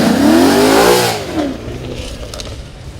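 A Ford Mustang 5.0L V8 with an MSD two-step launch limiter revs in a parking lot. A loud, close engine note surges up and falls away, followed by fainter crackling pops.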